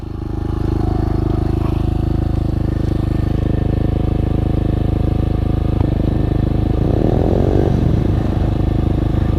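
SSR 125 and Xmoto 125 pit bikes run close by, their small engines buzzing loudly and steadily with a rattly idle and a brief rev near the end.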